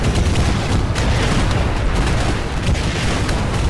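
A dark energy cannon fires during a co-op video game battle, a loud, dense rumble of booming blasts and gunfire-like bursts that runs without a break, with no talking.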